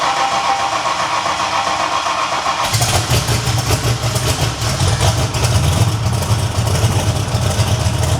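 A turbocharged 1000 HP Ford Foxbody with an open downpipe cranks and fires after a couple of seconds, then settles into a loud, rough, rumbling idle close by.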